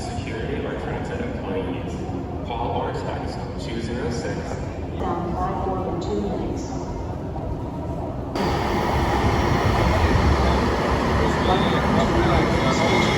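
Passenger train ride on the way to Seattle, with a steady broadband rumble of the railcar rolling along that grows louder partway through, continuous and close, with people talking over it.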